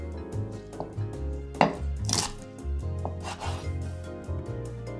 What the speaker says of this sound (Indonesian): Potong daun bawang bahagian batang.